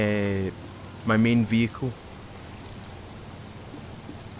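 Rain falling steadily in the video game SCUM, a soft continuous patter under a voice that speaks briefly at the start and middle, then rain alone.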